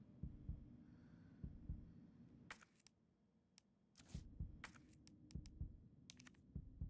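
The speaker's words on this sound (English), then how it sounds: "Now we can stop hearing the heartbeat" Heartbeat sound effect from the survival horror game Resident Evil, a steady low thumping pulse throughout, quiet, with sharp clicking game noises breaking in over it midway.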